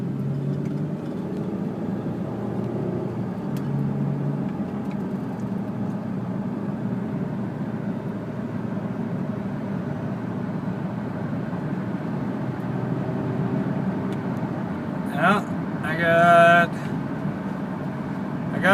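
A 2003 Hyundai Santa Fe is heard on a test drive, its engine and road noise a steady low rumble from inside the cabin, with a short sharp burst of noise near the end.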